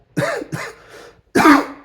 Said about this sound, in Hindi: मुझे है ना खांसी है